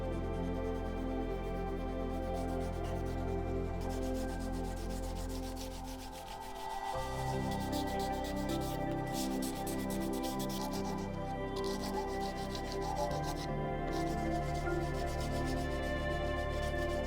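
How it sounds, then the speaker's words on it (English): Steady back-and-forth rubbing of sandpaper, from 220 up to 5000 grit, by hand across a folding EDC knife's handle and blade flats, close and continuous with a brief lull midway. "I hand sand the entire handle and the flats of the blade"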